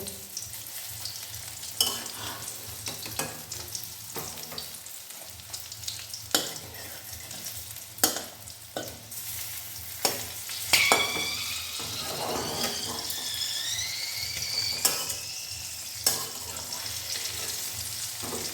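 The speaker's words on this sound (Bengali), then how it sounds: "ভাজা ভাজা হয়ে গেছে একটি, আমি আস্তে আস্তে উল্টে দেব। উল্টানোর সময় একটু সাবধানে করবেন যাতে গরম তেল ছিটকে গায়ে না চলে আসে।" Drumstick flower fritters fry in hot oil, a steady close sizzle punctuated by occasional utensil clicks and a brief bubbling flare as pieces are carefully turned.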